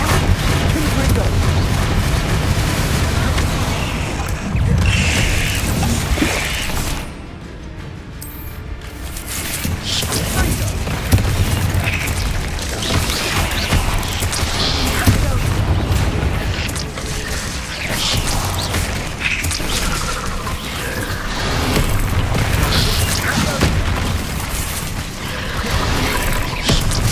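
Confringo blasting spells go off in Hogwarts Legacy as heavy booms and crashes over a continuous loud wash of combat noise and music, with a voice talking throughout.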